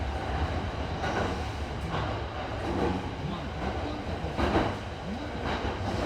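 Steady rumble of a train running through a tunnel of JR Sobu Rapid Line near Bakurocho Station, with periodic clacks as wheels roll over jointed, non-welded rail joints.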